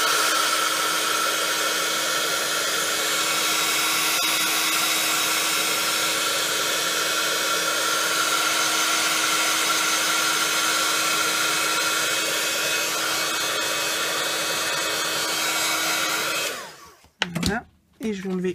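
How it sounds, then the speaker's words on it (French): A heat gun blowing lightly to dry ink on a handmade Halloween card, a steady loud whooshing blower hum that holds for a long stretch and then shuts off, followed by a few brief handling noises. "Je vais mettre un petit coup de heat gun pour sécher"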